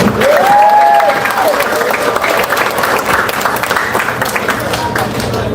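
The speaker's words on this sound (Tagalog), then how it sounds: "isang palakpak o isang bagsak para kay Mike Defensor" A crowd at a political rally breaks into steady, loud applause with dense clapping and a few cheers rising briefly near the start, continuing evenly for several seconds.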